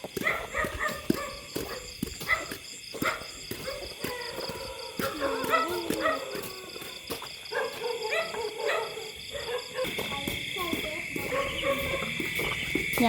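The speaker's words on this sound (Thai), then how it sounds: "หมาเห่าเสียงเกือบวิลาเลยดังดิ" Dogs bark at night in the rural Thai countryside during a night fishing trip, sharp repeated yelps rising over a dense chorus of insects and frogs while people talk nearby.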